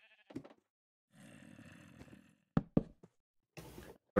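Minecraft sheep giving a short, muffled bleat in the middle of scattered in-game sounds: a few sharp knocks and thuds before and after, then a brief burst of noise at the end.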